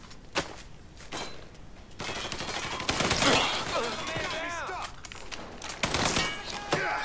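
Gunfire from the Mafia 3 video game crackles in dense, rapid volleys of overlapping shots, loud and continuous with sharp individual cracks, some heavier bursts and faint voices mixed in.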